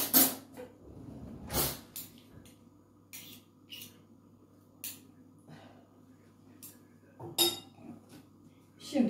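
A spoon clinking and tapping against dishes while preparing a walnut mosaic cake, scattered sharp metallic ticks and clinks separated by quiet stretches, close and fairly soft.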